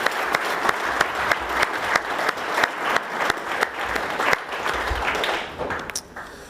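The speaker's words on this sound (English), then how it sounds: "Let's have another round of applause" A conference audience claps together in a warm, steady round of applause that carries on for several seconds, then thins out and fades near the end.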